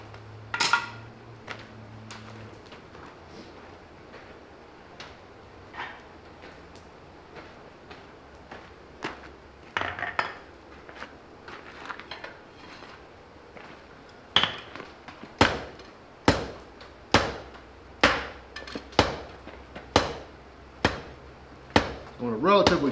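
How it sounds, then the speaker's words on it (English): A blacksmith hammers hot metal on an anvil while forging a foliage leaf, the ringing blows sparse and uneven at first, then settling into a steady, loud, evenly spaced rhythm of sharp clanks. "I'm gonna switch hammers there."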